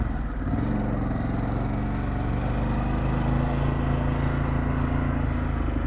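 Harley-Davidson Pan America motorcycle with a Vance Hines exhaust idling and running steadily nearby, a loud even engine rumble holding a constant pitch throughout, no voices.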